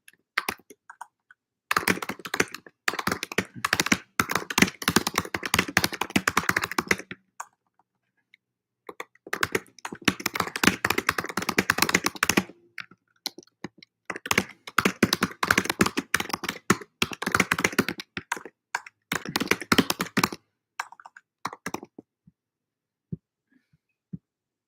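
Bursts of rapid typing on a computer keyboard, dense runs of key taps separated by short pauses, close and clear with no talking.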